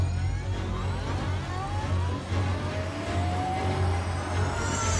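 A vehicle engine accelerates toward full speed, a loud, continuous, whirring drone with rising tones that holds steady throughout.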